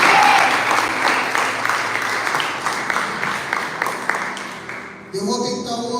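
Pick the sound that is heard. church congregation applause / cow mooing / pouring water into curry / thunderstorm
church congregation applause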